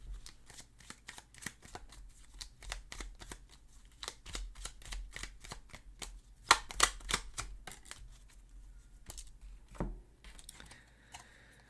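Shadow work oracle cards being shuffled by hand in a rapid run of crisp, close riffling clicks and flutters, steady through the clip with a denser burst near the end.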